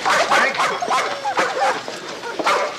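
A dog yips, whimpers and barks in quick bursts close by, mixed with excited human voices in a busy indoor scene.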